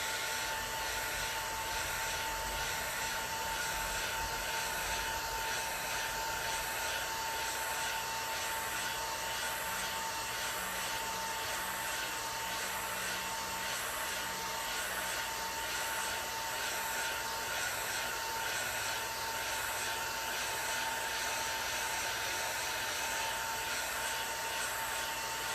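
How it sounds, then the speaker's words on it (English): A hairdryer blows on a watercolor sunset painting to dry the sky, giving a steady, fairly quiet whirring drone with a thin whine that holds unbroken from start to finish. "I'm going to get my handy dandy hairdryer, come on down, and I'm gonna blow the sky"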